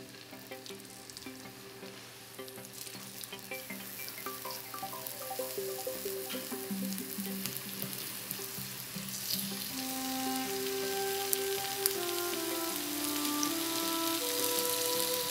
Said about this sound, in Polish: na rozgrzaną patelnię wlewam trochę oliwy i obsmażam mięso